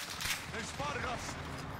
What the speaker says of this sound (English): Oh my god, who's shooting me now?